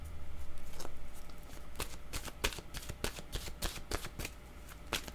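Tarot cards are shuffled close by, a papery riffle giving way to a run of soft irregular flicks and slaps as the cards are cut and dropped, fairly quiet and with no talking.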